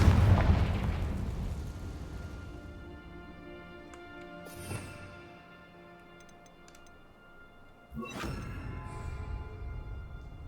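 Bombarda blasting spells burst in the Hogwarts Legacy video game: a loud opening blast fades out slowly, a small pop follows, then a second sharp explosion rings on, with faint ticking in the quiet between.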